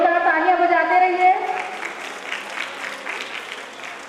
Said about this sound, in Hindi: जोरदार तालियां बजाते रहिए।